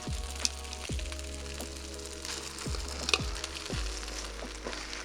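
Vegetables tipped back into a hot yakisoba pan set up a steady frying sizzle, with a few sharp clatters of utensils or food landing, close and continuous without talk.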